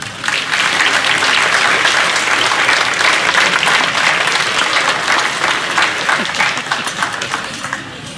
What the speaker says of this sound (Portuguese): é com muita honra que chamo este palco para receber as vossas palmas, Marcelo Dias.